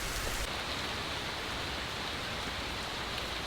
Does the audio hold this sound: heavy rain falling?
yes